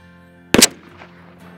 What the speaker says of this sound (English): watch as we shoot our TSS shells out of 20 gauge 3-inch,